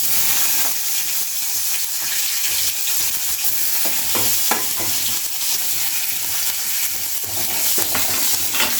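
Chopped shallots and curry leaves sauté in hot oil with mustard seeds, cumin and fenugreek for drumstick sambar, giving a continuous close sizzle with scattered stirring scrapes and light pops.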